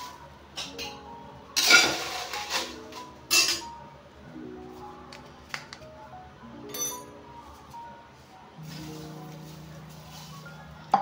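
Spices stir-fried with a little salt in a pan for a curry spice powder, with scattered metallic clinks and scrapes of a spoon against the pan, a few sharp louder knocks, and talking in between.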